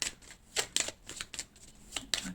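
Tarot cards are shuffled close up in quick papery riffles and slides, irregular bursts of soft flicking that repeat several times in a quiet room.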